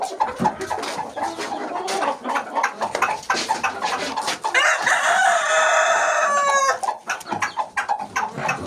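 Chickens cluck steadily in a farmyard where hens are laying and chicks are growing, and near the end a rooster lets out a loud, drawn-out crow.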